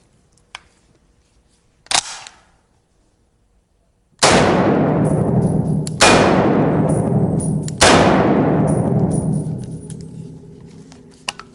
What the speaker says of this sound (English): Now, this is a Browning 30-06 caliber semi-automatic rifle, and this is used more so in hunting.